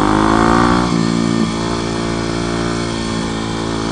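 A motorcycle engine revs loud and close, then drops in pitch to a steady, throbbing drone that holds for the remaining few seconds.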